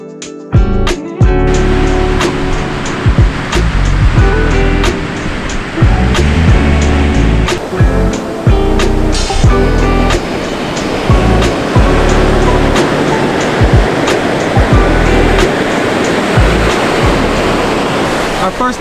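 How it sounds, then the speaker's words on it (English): Pacific Ocean surf breaking on a Southern California beach at sunset with palm trees nearby, loud continuous roaring wash with heavy wind buffeting the microphone and repeated thumps throughout. "Palm trees right behind us. Sun setting. The clouds. The waves."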